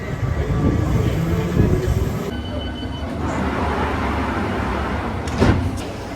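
Heritage London Underground tube train running for the King's Coronation, a steady rumbling ride with a door-like clunk partway through, a brief sharp hiss near the end, and faint voices in the background.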